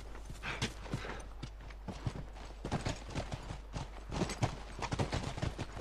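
Horses walking in The Last of Us, hooves clip-clopping in a steady, uneven rhythm of close, distinct hoof strikes over a quiet background.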